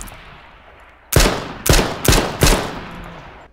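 Four sharp, loud gunshots from a weak upgraded gun in the H1Z1 Just Survive video game fire in quick uneven succession, each followed by a brief echoing decay over a quiet background.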